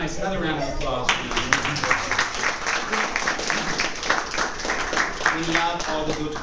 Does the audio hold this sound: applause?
yes